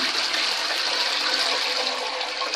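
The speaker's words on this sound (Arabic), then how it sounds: "واشد عليه الميه بالطريقه دي" A toilet flushes over a homemade cleaning cube set in the bowl, a steady loud rush of gushing water running throughout with no pauses.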